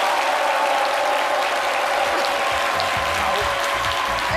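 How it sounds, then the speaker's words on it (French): A studio audience on the RTI 1 midday show gives a warm ovation, with steady dense clapping sustained at full level throughout. "Mesdames et messieurs, chaleureuse ovation pour Jean-Michel et Prissy."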